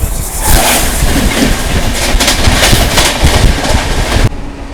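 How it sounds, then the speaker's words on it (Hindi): Close roar of a fast train rushing past on the Jalandhar to Delhi line, loud and continuous with rattling wheels and wind buffeting for several seconds before it suddenly drops away. "ये आ गई जी, बड़ी तगड़ी रफ्तार में जा रही है"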